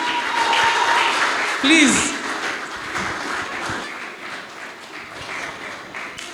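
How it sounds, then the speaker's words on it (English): Audience applause at a design panel session, a moderate, steady patter of clapping from a small crowd that carries throughout, with a voice speaking over it. "Let's clap for my CEO."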